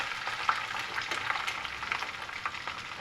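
Green chilies and onions fry in a pan with a steady, dense sizzle and a few soft stirring scrapes, close and continuous without any voices.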